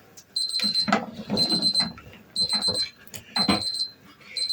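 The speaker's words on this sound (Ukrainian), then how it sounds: "І зараз працює таймер." A kitchen timer beeps in repeated short bursts of high electronic tones, four clusters spaced evenly, while a person talks throughout, as quail eggs boil.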